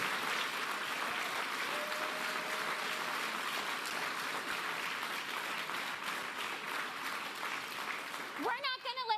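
Crowd applause during a political speech, a dense, steady roar of clapping that is fairly distant and sustained for several seconds, with a voice cutting in at the very end.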